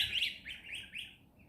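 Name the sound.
young farm birds chirping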